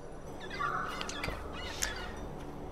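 Birds in the Broken Age video game squawk and warble in a short burst of cries over a soft steady background, fairly close and without speech.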